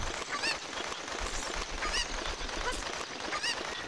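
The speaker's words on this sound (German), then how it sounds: "ich höre ein Huhn" Chicken clucking in the video game Zelda: Ocarina of Time, a hacked version, with short squawking calls repeating roughly every second and a half over a constant noisy background.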